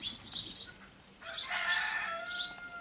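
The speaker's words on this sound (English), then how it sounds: "Hello, chickens." Chickens make bright, high calls outdoors in a forest setting: one burst, a short pause, then a longer drawn-out call and a final brief cry. The calls are moderately close over faint background noise.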